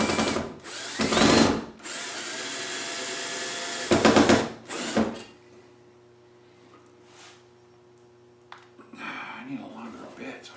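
A power drill drives screws into a wooden board while building a homemade wooden blasting cabinet: two loud, short whirring bursts, then a quieter stretch with a person talking nearby.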